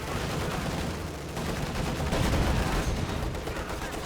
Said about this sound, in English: This MG is taking him out left and right.